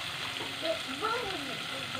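Fish frying in a pan for a home-cooked Filipino meal, giving a steady soft sizzle throughout with a few light stirring or spattering accents, fairly quiet and without speech.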